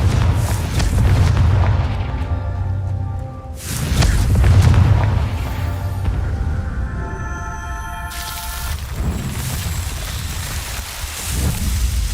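Confringo blasting spells explode in Hogwarts Legacy: several deep, loud booms land a few seconds apart, each leaving a rumbling, tonal ringing tail, with a fainter blast near the end.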